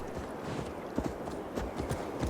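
Horse hooves clip-clop at a steady walking pace over a soft, continuous background hum, in the video game Assassin's Creed Valhalla.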